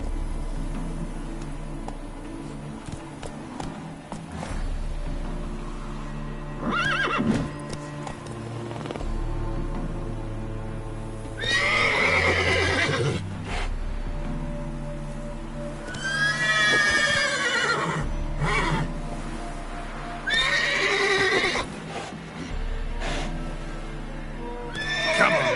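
A horse galloping and neighing in The Witcher 3 video game: steady hoofbeats run throughout, with several loud, close whinnies breaking out over the rhythm, no talk.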